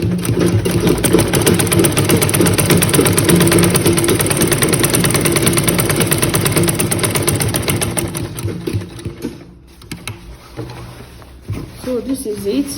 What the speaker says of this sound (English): sew the rope along with it here, then you turn